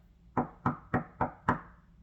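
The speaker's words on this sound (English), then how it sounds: "He took a shortcut to grandmother's cottage and knocked on the door." Five evenly spaced knocks on a cottage door, firm and close, each a sharp thud with a short wooden ring, heard alone.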